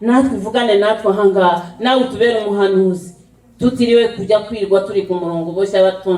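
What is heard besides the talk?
No everyday noises stand out.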